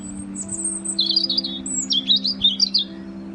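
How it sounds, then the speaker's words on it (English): Birds chirp in a garden, with bright repeated tweets and short trills in quick bursts over a low steady hum. "watching the birds flip from branch to branch"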